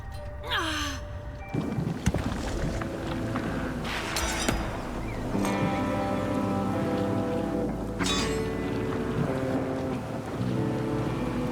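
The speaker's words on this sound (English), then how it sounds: "Suddenly, the energy storm came to an end." Energy storm in the dungeon-building game Dungeons 4, steady rain hiss under booming thunder cracks that strike several times, mixed with whooshing magical swells and a tonal musical drone.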